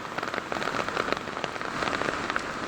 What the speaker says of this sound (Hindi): बहुत ही भयंकर बारिश लग रही है।